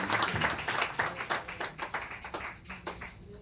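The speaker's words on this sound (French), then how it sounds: "on applaudit le Seigneur" Church congregation clapping in praise, a run of sharp hand claps in a loose, steady rhythm over about three seconds, moderately loud and thinning toward the end.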